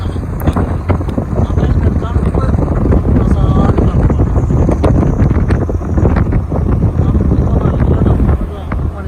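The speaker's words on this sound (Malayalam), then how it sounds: "പക്ഷെ നല്ല കാറ്റാണ്, പെരും കാറ്റ്, നല്ല തണുത്ത" Strong, cold wind buffets the microphone in loud, continuous gusts and roars, with a voice faintly under the rumble.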